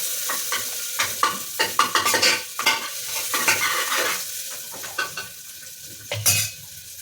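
Carrots and French beans frying in a pan, a steady close sizzle broken by repeated scraping, clinking stirs of a spoon against the metal.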